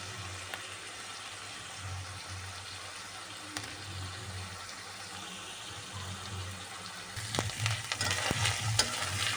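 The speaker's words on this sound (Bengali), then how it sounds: "আদা রসুনটাকে ভেজে নিচ্ছি তেলটার মধ্যে।" Ginger garlic paste frying in oil for a Bangladeshi chicken curry, a soft steady sizzle close by that grows busier near the end with a few stirring scrapes.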